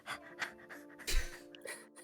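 A voice imitates a dog panting during tabletop role-playing game narration: a few quick rhythmic breathy huffs, close and faint, with no other talk.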